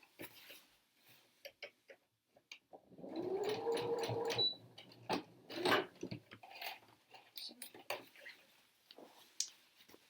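A sewing machine runs top stitching on scrubs trousers in a quiet room, with a short whirring run followed by scattered ticks and clicks of the mechanism.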